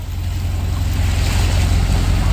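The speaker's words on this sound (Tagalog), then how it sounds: "Yun, ganda na ng tunog ng makina" A fishing lightboat's engine runs steadily during a test drive, a loud, continuous low drone with water and wind wash over it and no talking.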